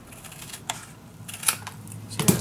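Scissors snipping a paper envelope down to size for a Stamperia Savana mini album, a few faint crisp cuts and clicks scattered close by over low room noise, with no talk.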